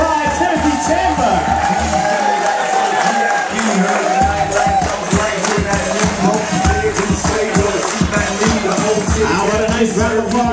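Wedding guests at a reception hall cheer, whoop and applaud loudly for a bridal party introduction, a dense continuous crowd roar with claps and shouts throughout, voices mixed into the din.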